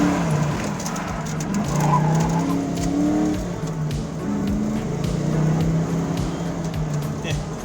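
A 1994 Ford Mustang Cobra on new tires passes close by, its engine note rising and fading over several seconds, with a broad rumble and some tire noise steady throughout.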